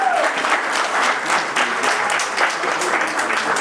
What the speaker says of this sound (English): let's give another round of applause to my mom for getting this all set together